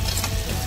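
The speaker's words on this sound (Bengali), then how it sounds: "হলুদ গুঁড়ো, লঙ্কা গুঁড়ো, জিরে গুঁড়ো দিয়ে ভালো করে কষিয়ে নিয়ে" Turmeric, chilli and cumin powders sizzle and fry in hot oil in a pan while being stirred for a Bengali-style cauliflower roast, a steady loud crackle throughout with no talking.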